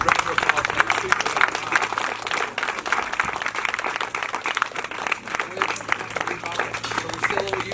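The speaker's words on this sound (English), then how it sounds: "Round of applause, mate." Applause for a trophy winner at a 2023 football club presentation night, uneven clapping with voices chattering over it in a busy room.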